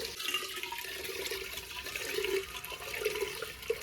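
Tap water runs and splashes steadily while moong dal and rice are washed together in a home kitchen, with a continuous close rushing sound and no talking.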